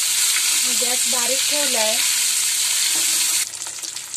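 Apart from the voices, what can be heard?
eggs frying in oil in a pan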